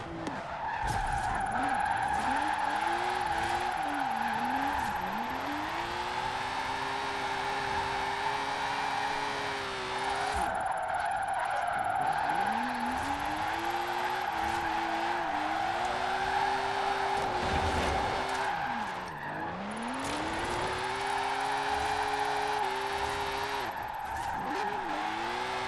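A car in the racing game Forza Horizon 4 drifts with a steady, loud tire screech over a revving engine that rises and dips through the slides, continuous for the whole stretch with no talking.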